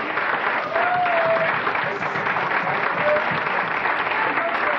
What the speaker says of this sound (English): I would like you to give a roaring round of applause for Steve and Jason,